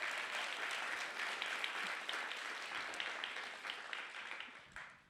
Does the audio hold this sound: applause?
yes